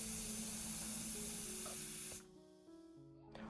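A loud, continuous hiss of steam escaping from a pressure cooker of cooked dal, cutting off abruptly after about two seconds, then a few soft clinks.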